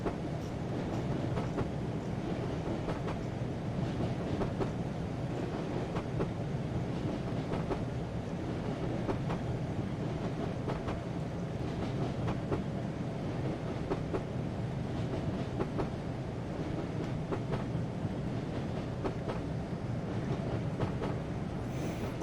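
A Class 47 diesel train picks up speed on a downhill section of the North Somerset route in Train Simulator Classic, a steady loud rumble with rhythmic clickety-clack over the rail joints throughout, no voices.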